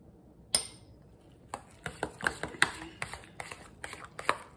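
Drained canned peas are stirred in a dish for shepherd's pie, with irregular clinks and scrapes of a utensil against the bowl, faint to moderate and close, repeating unevenly.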